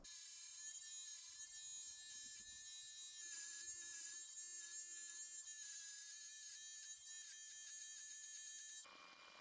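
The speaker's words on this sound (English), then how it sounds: "Probably help if I had a better razor setup, but I just don't do this very often" An electric razor buzzes steadily while shaving off a beard, the close, continuous motor whine shifting slightly as it moves over the stubble, then cutting off abruptly near the end.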